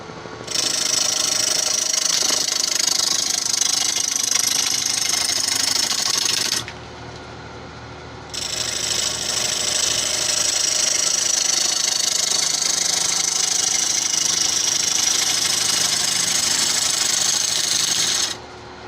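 Woodturning lathe cutting a Tigerwood bowl blank round for a 15 inch bowl: a loud continuous rasping hiss of the tool on spinning wood over a low motor hum, pausing briefly midway before resuming.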